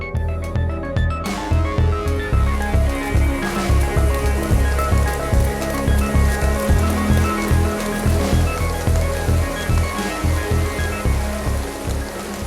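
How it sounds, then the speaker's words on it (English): Rain patters on street objects such as a trash can in a video game, dense irregular drips and taps over a steady wash, mixed with rhythmic low pulses that continue throughout. "it's the sound of rain on the objects in our game."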